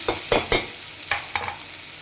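Spices and salt frying in a pan, stirred with a few quick, sharp scrapes and clinks over a soft, steady sizzle, close by.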